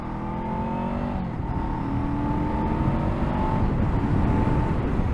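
A 2024 Honda SCL500 motorcycle engine heard from the rider's seat, a steady loud drone with wind rush, revs climbing and dropping through the gears.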